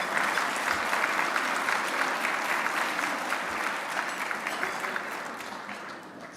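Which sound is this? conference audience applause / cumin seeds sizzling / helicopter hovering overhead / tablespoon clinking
conference audience applause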